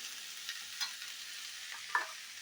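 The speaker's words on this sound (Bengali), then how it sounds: "এবার একটু ভাজতে শুনে দিই" Chili soya pieces with salt frying in a pan, a soft steady sizzle with a few light stirring scrapes and small pops, close and alone.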